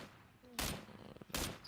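Video game gunfire: two sharp, loud bursts of shots about a second apart, with quieter background noise and faint activity between them.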